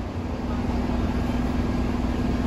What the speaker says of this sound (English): that's the fantastic double-decker Explorer bus